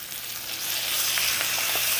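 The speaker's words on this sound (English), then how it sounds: "add the chicken thighs to the pan, skin side down. Can you hear that sizzle?" Steady, close sizzling and crackling of chicken thighs frying skin side down in hot oil in a pan, a continuous hiss with small pops, no voices.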